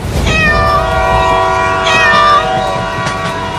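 A cartoon train approaches on the tracks, a loud rumbling roar carrying a sustained blaring horn that sounds twice in long tonal blasts.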